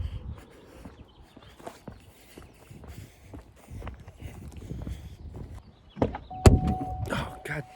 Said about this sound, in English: Oh, goddamn door.